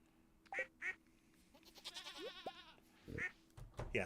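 Goat bleats and other farm-animal calls in the video game Stardew Valley, several short separate cries with a wavering bleat in the middle, faint and clear, with no talk over them.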